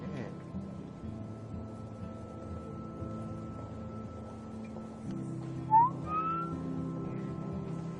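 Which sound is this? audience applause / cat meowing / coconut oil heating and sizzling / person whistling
person whistling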